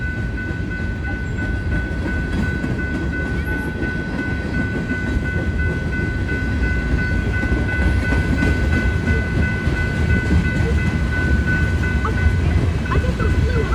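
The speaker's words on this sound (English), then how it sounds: "Train literally did a horn salute." A BNSF freight train rolls past a railway crossing, its steady heavy rumble and wheel noise filling the whole stretch loud and close, with a faint sustained horn tone running through it.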